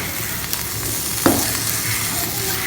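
A prawn and coriander leaf mixture is stirred in a pan, giving a continuous soft frying sizzle with one sharper scrape partway through, close and steady, with no talking.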